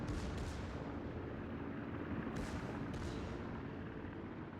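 Rapid secondary gun batteries of the battleship Bismarck firing in World of Warships, a dense continuous roar of overlapping cannon blasts with a few sharper cracks standing out, loud and sustained throughout.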